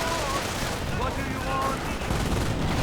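Steady, loud gunfire from Volksgrenadier infantry in Company of Heroes 2 rattles on without pause, mixed with battle noise beneath a commentator's voice.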